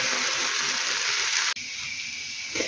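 Crepes with cheese and cherries frying in a pan, a steady bright sizzle of hot fat that drops abruptly in level partway through, continuing more quietly afterward with no talking.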